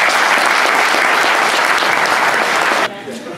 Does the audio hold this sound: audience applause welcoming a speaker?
yes